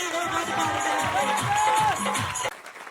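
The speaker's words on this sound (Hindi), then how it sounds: "ये तालियां काफी है साहब" Audience at a network marketing company gathering claps and cheers as a loud, dense crowd for about two and a half seconds, with a whistle rising over the noise before it suddenly cuts to quiet.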